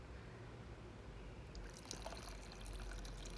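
Soft, faint trickle of tamarind water being poured into a medicinal plant curry, a gentle pouring sound that brightens toward the end, with no voices.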